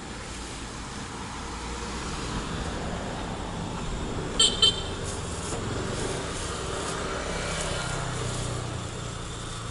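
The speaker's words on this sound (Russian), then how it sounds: "Ездят машины, мопеды, ходят люди." Busy street traffic in Pattaya, Thailand, with cars and mopeds rolling past in a steady roadway rumble and a brief double horn toot midway.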